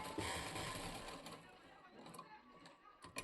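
Sewing machine stitching a hook-and-eye patti strip onto a blouse: a steady close mechanical whirr that runs for about three seconds, with a few brief clicks near the end.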